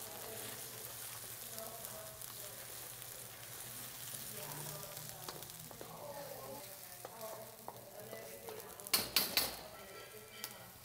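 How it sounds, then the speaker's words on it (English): Curry paste frying and being stirred in hot fat for a Thai red curry, a steady soft sizzle with scraping stirs, brief louder clatter near the end. "bringing them all together, mixing them in the fat with the heat"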